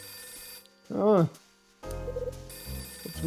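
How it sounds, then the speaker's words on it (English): A telephone rings in the video game Last Window, a short electronic warbling burst standing out clearly between stretches of quiet background music. "It's my phone."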